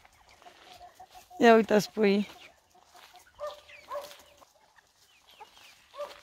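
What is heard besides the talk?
hen clucking with chicks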